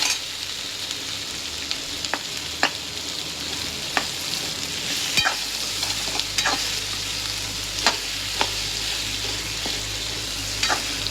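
Potatoes fry and are stirred into a cumin tempering for jeera aloo over a low gas flame, giving a steady sizzle with sharp spoon scrapes recurring every second or two. No one speaks.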